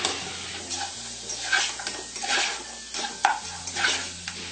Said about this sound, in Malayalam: ഇനി എടുത്തു വെച്ചിരിക്കുന്ന പൊടികളെല്ലാം ഇതിലേക്ക് ചേർത്ത് കൊടുക്കാം. ഒന്ന് ഇളക്കി കൊടുക്കാം.